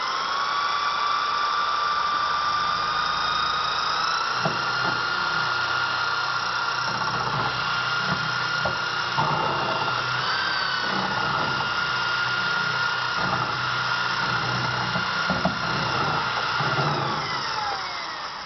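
A power drill fitted with a mixer spins steadily through ceramic glaze in a plastic bucket, giving a continuous high whine with a churning, sloshing undertone that runs unbroken for most of the stretch.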